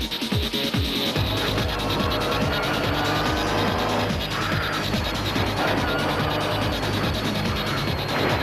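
A Castrol Toyota rally car driven hard on a special stage, a loud, continuous engine roar with shifting revs and mechanical rattling throughout, close and dense.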